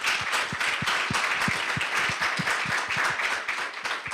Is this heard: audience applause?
yes